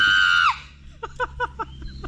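A woman lets out a loud, sustained high scream aboard a boat, cutting off after about half a second, followed by several short, quieter vocal bursts over low engine rumble.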